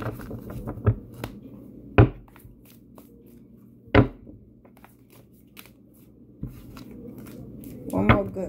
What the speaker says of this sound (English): One more good card. Shuffle.